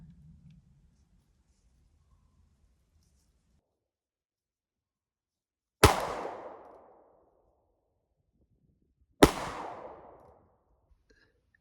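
Two sharp, loud revolver shots from a Charter Arms .357 Magnum Pug fired at an outdoor range toward a 25-yard target, about three seconds apart, each with a short decaying echo, separated by near silence.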